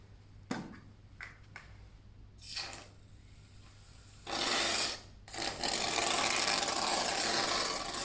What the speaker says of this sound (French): Y ajouter de la mousse à raser.